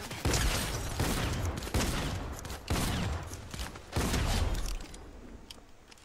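Fortnite gunfire: loud bursts of rapid shots arrive in four separate volleys, each ending in a sharp crack, with a short gap between volleys and no talking.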